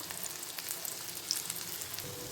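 Sliced onion, green chillies and garlic sautéing in a pan for soya roast samosa filling, a soft continuous sizzle with light crackles, steady and fairly quiet, no talk.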